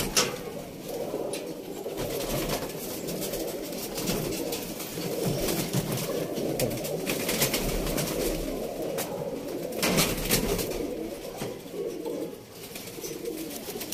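Pigeons in a loft coo continuously, a dense bed of low overlapping throaty calls close at hand, with occasional rustles and no voices.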